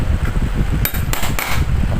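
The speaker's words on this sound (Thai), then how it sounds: "เราก็ตอกริมหน่อยก็ได้ครับริมเก่านะครับรอยเดิม" Sharp metallic taps ring out as a hammer strikes the rim of a Philips fan motor during repair, two or three close, loud knocks over a low rumbling background.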